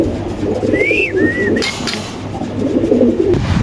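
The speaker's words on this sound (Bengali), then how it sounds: "খুব সুন্দর সুন্দর কবুতর বড় সাইজের কবুতর" Large pigeons at a pigeon market coo loudly and close by, with a short rising-and-falling call over a low, continuous crowd murmur.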